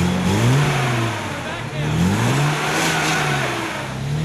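A Nissan Patrol 4x4 stuck in a mud pit, its engine droning and revving steadily, rising and dipping in pitch, loud and close throughout.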